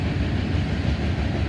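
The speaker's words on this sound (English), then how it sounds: "This is a long train. I can see why they had the distributed power on it." A long freight train with distributed power units rumbles past nearby, giving a loud, steady, low roar of wheels and engines that holds constant throughout, with no talking.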